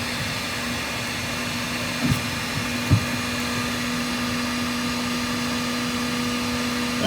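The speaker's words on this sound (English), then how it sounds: "Right now it's a heat gun." A heat gun blows hot air into an RV refrigerator, a steady close whooshing roar with a faint hum, running unbroken and alone apart from two brief knocks.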